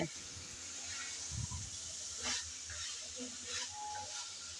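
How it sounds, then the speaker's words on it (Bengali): Potatoes and pumpkin stalks stirring and frying in a pan give a steady close sizzle and hiss, with a few soft scraping knocks as they are turned. "আলু ডাটা ভালো করে নেড়ে চেড়ে কিছুক্ষণ কষিয়ে নেব"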